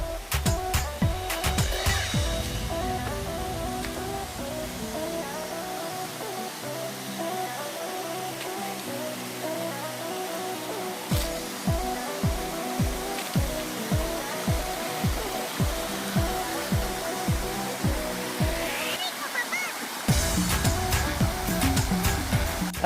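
The multi-tiered waterfall Air Terjun Tingkat 7 in Aceh Selatan, here its fourth tier, roars as a constant broad rush of falling water heard up close, with rhythmic thumping knocks partway through.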